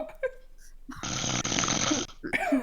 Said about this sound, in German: niemand, mit dem ich in einem Raum schlafen will, wenn der immer so schnarcht